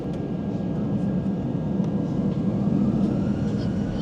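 Airliner on the runway starting its takeoff on a business-class flight from Gran Canaria to Frankfurt, heard from inside the cabin as a steady, dense engine roar and rumble that holds throughout with no talk.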